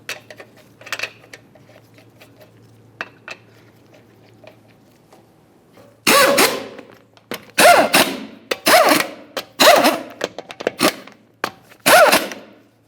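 Lug nuts being run down onto a Dodge Dakota front wheel with a power tool, 2005-2010 model, 22mm nuts: quiet clicks first, then five loud, sharp rattling bursts close by, each about a second long.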